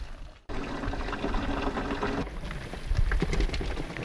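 Water pours and drains through a clog-free drain past a pile of crawfish, a loud, close rush with splashing and gurgling that starts abruptly after a brief quiet moment and runs on steadily.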